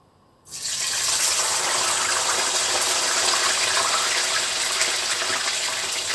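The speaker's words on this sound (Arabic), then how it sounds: "عندي الزيت سخن عندي، هنزل بقى بالبطاطس." Sliced potatoes dropped into hot oil for a basterma sandwich recipe, setting off a loud, steady broadband sizzle that starts suddenly after a brief quiet moment and holds evenly throughout, with no talking.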